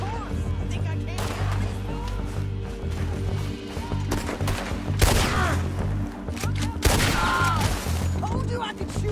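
A gunfight in Red Dead Redemption 2 with loud, overlapping rifle and pistol shots cracking in volleys over a constant background rumble, while voices talk between the shots.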